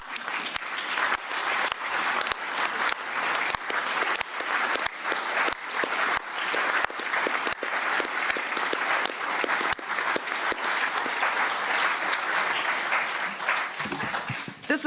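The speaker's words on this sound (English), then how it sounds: "This applause was for you, the people" Sustained, steady applause from an audience at a political address, dense clapping held at even loudness for about fifteen seconds with no talk.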